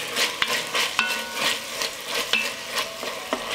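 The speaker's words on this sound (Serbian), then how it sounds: "Na ovoj masnoći propržit ću crni i beli luk" Onion and garlic fry in rendered fat in a pan, a steady sizzle broken by repeated sharp scrapes and taps of a utensil stirring against the pan.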